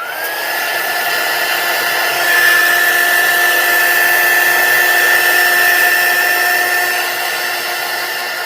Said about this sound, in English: I'm going to turn my heat tool on, let it warm up completely, and then start heat setting